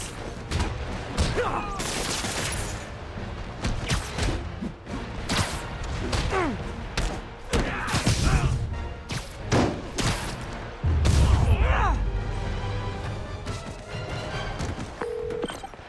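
Gunfire and combat in Spider-Man 2 game action, dense rapid shots, thuds and crashes filling the scene with brief whooshes, loud and continuous.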